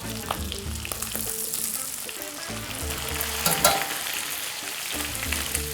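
A T-bone steak fries and is basted in butter in a pan, giving a steady, close sizzle with spattering crackles and occasional stirring or turning sounds throughout.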